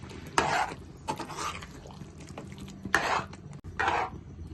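Ground masala powder being stirred into a pot of mutton curry: a few separate bursts of scraping and clinking from a spoon against the pot, close by, with quieter pauses between them.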